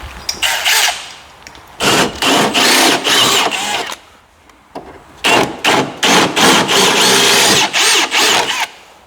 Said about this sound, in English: I'll run this drill bit through.